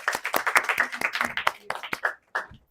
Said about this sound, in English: Everybody want to give her a round of applause